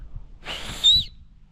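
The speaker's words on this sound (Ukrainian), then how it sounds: "це не просто фастекс, це свисток" A short, breathy blast on a small plastic whistle built into a backpack strap buckle, rising into a thin shrill tone, heard once and close.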